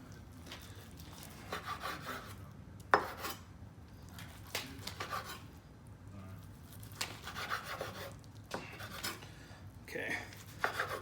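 A knife saws through grilled carne asada steak on a wooden board, with repeated rasping strokes and occasional sharp knocks of the blade against the wood, close and moderately loud, under quiet room background.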